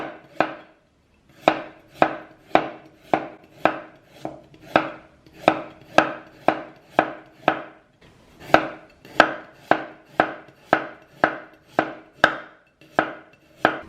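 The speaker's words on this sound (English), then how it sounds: "slicing the carrot, what you do is you use your thumb to guide your slicing" A kitchen knife slices a carrot into thin pieces with a steady run of crisp, close taps on a cutting board, about two strokes per second with one short pause, and no talking.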